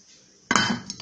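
A lid drops onto a cooking pan with a single short clatter, followed by a couple of faint metallic taps as it settles.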